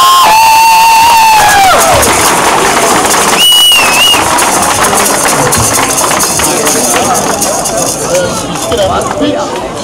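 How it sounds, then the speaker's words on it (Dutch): A festival crowd at a comedy event in Houthalen-Helchteren cheers and claps loudly, with shouts and whistles rising over sustained applause for nearly ten seconds while a voice sounds over the start. "geeft u alsjeblieft een warm applaus"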